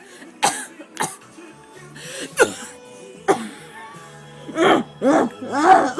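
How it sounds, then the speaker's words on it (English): Several deliberately exaggerated, theatrical coughs, short sharp bursts spaced apart, then a cluster of louder, longer hacking coughs near the end, close and loud. "The improper way to cough and get attention."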